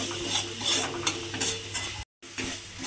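Spice mix frying and sizzling in a pan as sugar, with salt, is stirred in. The scraping and stirring is close and steady, with a brief full dropout near the end.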